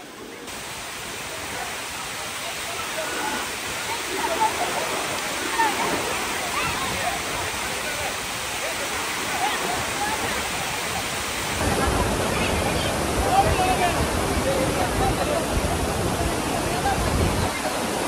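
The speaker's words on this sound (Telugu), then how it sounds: "చాలా గట్టిగా పడుతున్నాయి వాటర్" Silver Falls waterfall in Kodaikanal roars continuously, a dense, steady rush of falling water heard up close that swells slightly louder partway through.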